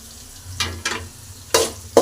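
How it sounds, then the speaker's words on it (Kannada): Green chillies and onions frying in a pan with salt: soft sizzling with a few bursts of stirring and scraping, close and fairly quiet, no talking. "ಮೆಣಸಿನ್ಕಾಯಿ ಮತ್ತು ಈರುಳ್ಳಿನ ಇವಾಗ ಚೆನ್ನಾಗಿ ಫ್ರೈನ ಮಾಡ್ಕೋಬೇಕು."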